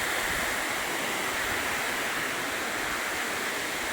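A downpour driven by strong wind makes a dense, unbroken roar of falling water, loud and close, continuous throughout with no speech.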